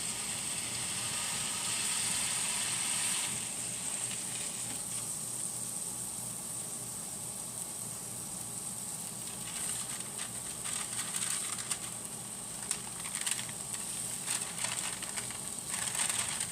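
Breakfast sausage pressed flat under parchment paper on a Blackstone griddle gives a steady, close sizzle with a fine crackle that runs for about sixteen seconds. Nobody speaks.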